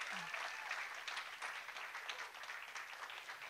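A church congregation claps in faint, steady applause, a distant wash of many hands with murmuring voices mixed in.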